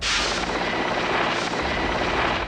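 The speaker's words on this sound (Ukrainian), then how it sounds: "І безперервна доставка гелікоптерами все нових боєприпасів." Military helicopters ferrying ammunition during the Chechen war produce a loud, continuous rotor roar with heavy low rumble, steady for a couple of seconds.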